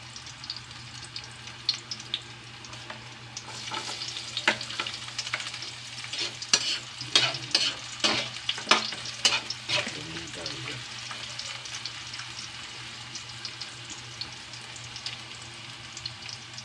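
Ham and garlic fry in a pan with a steady close sizzle, broken by a run of scraping, clattering stirs through the middle, with no one speaking.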